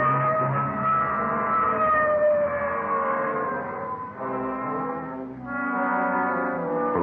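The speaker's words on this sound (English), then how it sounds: "Okay, hit the siren." Police car siren in a radio drama, a loud wailing tone that rises and falls in long sweeps and dips briefly midway, steady and close with no voices.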